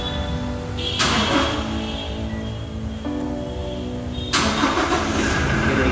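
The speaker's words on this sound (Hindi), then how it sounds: "तो हम देखते हैं अपनी स्टार्ट करके गाड़ी।" A car fitted with a universal LCD display smart key starts up: a sharp cranking burst catches into a steady idle, with a second rising surge later, loud and close with no talk.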